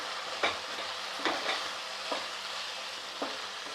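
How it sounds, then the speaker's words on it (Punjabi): Poha being stirred in a frying pan at home with turmeric and onion, giving several soft, sizzling scrapes at an irregular pace, fairly faint and close, with no voices. "ਹੁਣ ਆਪਾਂ ਇੱਥੇ ਪਾਵਾਂਗੇ ਪੋਹਾ ਇਹਨੂੰ ਹਲਾ ਲਾਂਗੇ ਪਹਿਲਾਂ ਚੰਗੀ ਤਰ੍ਹਾਂ"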